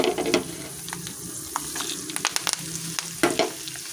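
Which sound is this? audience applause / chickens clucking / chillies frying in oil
chillies frying in oil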